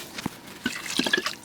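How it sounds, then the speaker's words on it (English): Water poured into an Instant Pot over beef bones and tendons for bone broth, with a few soft splashes and drips in short bursts, close and fairly quiet. "I'm going to add just a little bit more water just so that the tendons are nice"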